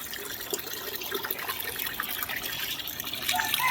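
Water pours and splashes over rice in a container, a steady gushing trickle growing slightly louder toward the end, fairly faint and alone.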